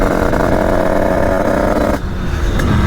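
A Honda HM 86 motorcycle engine, fitted with an aluminium top end, runs loud and close at high revs with a harsh buzzing tone. The pitch drops briefly about two-thirds of the way through, then rises again. No one speaks.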